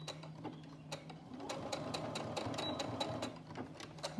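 Sewing machine stitching fabric for a rhino mask: a steady, fast mechanical clatter of needle strokes, close and moderately quiet, running in short bursts with brief pauses between seams.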